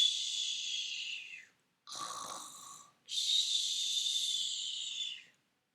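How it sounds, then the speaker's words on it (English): Loud snoring from an elephant, three long rasping snores with short silent pauses between them, the middle one rougher and deeper. "The elephant was snoring loudly."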